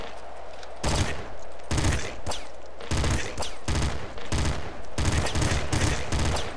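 Assault rifle gunfire from the Nuclear Throne video game rattles out in loud, repeated bursts of rapid shots separated by short gaps, with a constant background hum of game sound.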